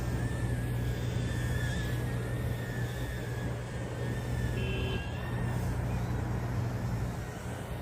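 Stock brushed motors of an Eachine E010 micro quadcopter whine steadily in flight, a thin constant buzz with slight pitch wavering, heard fairly faint and alone with no talking.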